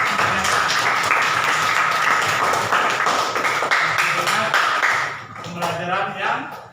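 Students in a computer hardware lesson clap their hands together, brisk rhythmic clapping in a room that breaks off near the end as voices talk over it.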